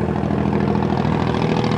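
A police helicopter passes overhead as a steady, rumbling engine and rotor drone, fairly loud and unbroken throughout, heard from the ground outdoors with no voices.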